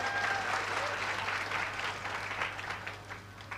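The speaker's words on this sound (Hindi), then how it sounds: "ये ताली किस प्रसन्नता में है मैं नहीं समझ पाई।" An audience at a Ram Katha discourse breaks into dense, steady applause that eases slightly toward the end, with a low electrical hum underneath.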